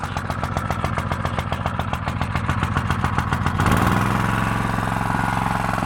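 Petrol water pump engine, running close and loud with a fast, even mechanical thrum that changes in tone a few seconds in, then carries on steadily as a dense, rough drone with no talk.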